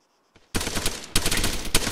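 Gunfire in an Arma military game rattles out in dense overlapping bursts, loud and close, starting abruptly after a short quiet moment and continuing in rapid clusters.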